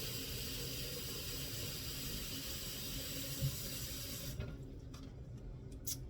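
A kitchen tap runs steadily to refill a pot with about a quart of room-temperature water for watering an orchid, a constant rushing stream that stops near the end, followed by a few faint knocks.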